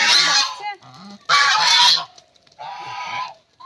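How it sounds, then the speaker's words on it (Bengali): Ducks calling after laying eggs in a rural yard, three loud honking bursts close by, each lasting under a second, separated by short quiet gaps. "হাঁসের ডিম পাড়া হয়ে গিয়েছে আর গিয়েছে তো সেই জন্য ডাকছে"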